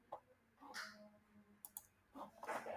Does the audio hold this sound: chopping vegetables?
no